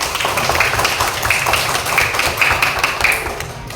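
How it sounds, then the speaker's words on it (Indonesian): A primary school class claps hands together in a classroom, a loud, dense patter of many small hands that keeps going for a few seconds before tapering at the end. "Tepuk tangan buat kita semua."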